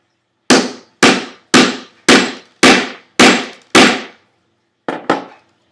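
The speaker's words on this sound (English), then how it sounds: "First thing I'm going to do is set this rivet using the die how it was sent to me from knifekits.com." A rivet setter die struck with a hammer to set a rivet for a Kydex sheath: seven sharp, loud, evenly spaced blows, then a short pause and two quicker final taps, each ringing briefly and cleanly.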